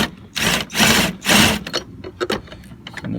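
A power ratchet loosens a battery bracket bolt on a 2017 Ford F350 turbo diesel truck, sounding in three loud, close, whirring bursts followed by shorter, choppier spins and clicks.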